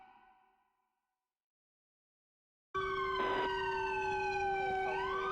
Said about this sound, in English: Let me just turn my siren off really quickly. I think my siren's stuck on.